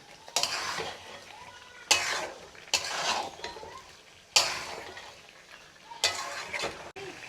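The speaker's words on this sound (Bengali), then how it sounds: "আপনারা এইভাবে 2 থেকে 3 মিনিট কষিয়ে নেবেন" Chicken pieces stir-fried in a pan, with loud scraping stirs of a metal spatula every second or so over a soft underlying sizzle, near and without speech.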